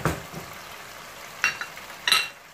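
Chicken pieces coated in garlic and ginger paste being stirred in a hot pan, a steady frying hiss broken by a few sharp scraping clinks of the spoon against the pan.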